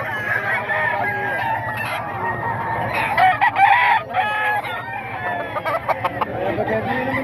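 A tall ten-month-old Gilmore straight comb gamefowl rooster crows loudly and close, with a long drawn-out call over steady background farm noise and other birds.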